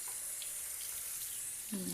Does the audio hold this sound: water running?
yes